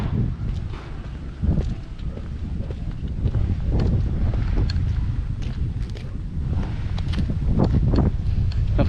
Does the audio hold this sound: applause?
no